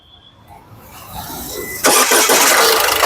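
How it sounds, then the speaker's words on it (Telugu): A 2016 Ford EcoSport Trendline engine cranks briefly and then catches, jumping into a loud, steady idle that runs to the end. "ఇంజన్ యొక్క నాయిస్ చాలా సైలెంట్ గా అయితే ఉందండి మళ్ళీ ఒకసారి స్టార్ట్ చేయి"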